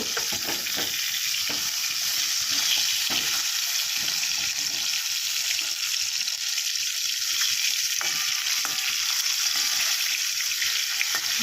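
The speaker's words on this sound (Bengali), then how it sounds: "চলো মাছগুলো আগে ভেজে নিই" Steady, loud sizzling of dhela fish frying in hot oil, a continuous crackling hiss with no talking.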